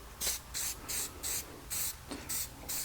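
Short bursts of spray paint coat a steering wheel, about eight even hissing pulses in quick rhythm, close and fairly loud with nothing else heard.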